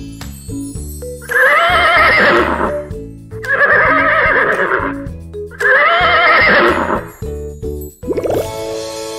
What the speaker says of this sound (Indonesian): Itu suara kuda.